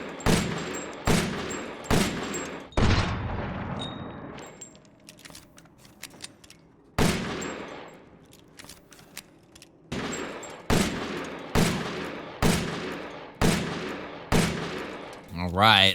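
A fully upgraded S.T.A.K.E. gun fires in Resident Evil Village, single loud shots at a steady pace of about one per second, each followed by a ringing tail, with a pause midway.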